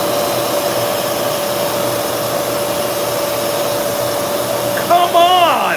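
A Bosch vacuum cleaner runs continuously with a loud, steady whine and airy rush at close range, and a voice briefly breaks in near the end.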